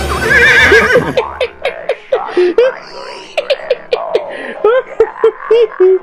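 A horse neighs as a sound effect: a loud whinny, then a string of shorter snorts and nickers with sharp clip-clop-like knocks, close and alone after a brief opening burst.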